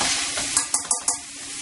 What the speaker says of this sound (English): I'm going to give it a shake a little bit in the pan